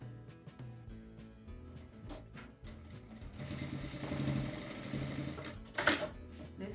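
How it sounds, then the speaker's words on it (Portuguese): A sewing machine stitches a strap onto a cloth bag, with a faint, continuous mechanical whir that swells in the middle over soft background noise. "Aqui eu já vou passar uma costura, já para posicionar ela aqui."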